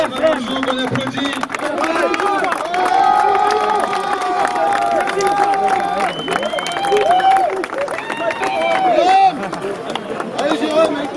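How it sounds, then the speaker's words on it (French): Crowd applauds and cheers after a rugby final, with sustained clapping and shouts throughout while people talk and call out over it. "Félicitations, merci Mamouzo, on applaudit."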